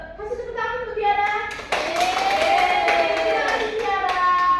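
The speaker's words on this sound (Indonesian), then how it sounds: "Kasih tepuk tangan untuk Tiara." A classroom of students claps together for a classmate, a lively burst of applause that swells and holds, mixed with children's voices and an adult speaking over it indoors.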